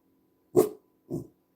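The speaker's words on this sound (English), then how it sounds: "What are you barking at?" A dog gives two short barks about half a second apart, the first louder, close by in an otherwise quiet room.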